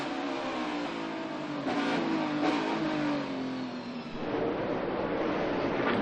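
Stock race cars roaring around Sonoma Raceway's road course toward the final corner, a loud sustained engine drone with rising and falling pitch as cars pass, no talk audible.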